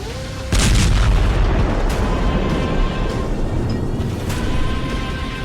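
A missile blast at the Karaj bridge in Iran opens with a sudden heavy boom, then a loud sustained roar and rumble of the explosion and debris that stays dense for several seconds, with no talking.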